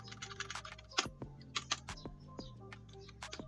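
Keys tapped on a computer keyboard for a Google search, a close run of uneven clicks with a few louder strokes and short pauses, no talking.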